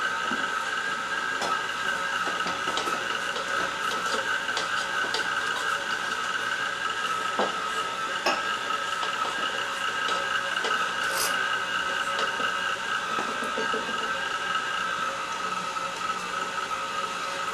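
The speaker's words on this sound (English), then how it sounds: "I use the spoonula also to get the stuff against the wall down into the mixer" A stand mixer works schnecken dough, a steady whirring motor drone with scraping and rubbing sounds from a spatula against the bowl, continuous and close.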